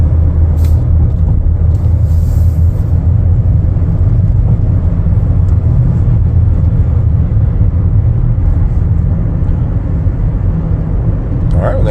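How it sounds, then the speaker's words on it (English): A 2025 Chevrolet Equinox LT on a test drive makes a steady, low road-and-engine rumble inside the cabin for the whole stretch, with a voice faintly present at times. "Take it for a test drive here."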